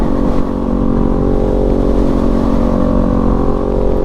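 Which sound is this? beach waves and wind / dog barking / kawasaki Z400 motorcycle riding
kawasaki Z400 motorcycle riding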